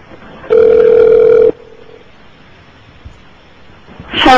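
A telephone line gives a single steady one-second tone during a call transfer, followed by quiet line hiss and a brief burst of sound at the end.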